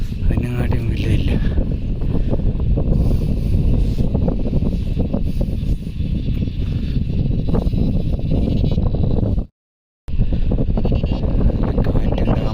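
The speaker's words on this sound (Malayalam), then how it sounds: "കാറ്റുണ്ട്." Strong wind buffets the microphone on the Amapara hilltop in Idukki, a loud continuous roaring rumble with a brief cutout near the end.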